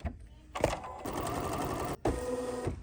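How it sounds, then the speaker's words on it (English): A sewing machine stitching a placement line on a purple embroidery sampler block, running in a steady close whir for over a second, pausing briefly, then resuming; a voice is faintly present near the start. "And now I'm going to stitch this line."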